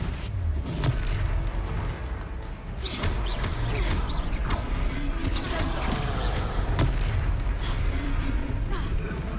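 Confringo blasting spells in a wizarding video game, several bursting explosions and crackling impacts going off in quick succession amid busy battle noise, with a voice speaking during the fight.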